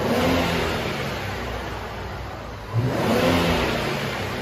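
A 2018 Infiniti Q60 with the 3.0-liter turbo engine and stock exhaust holds a steady, fairly quiet drone, then revs up briefly near the end, with no talking.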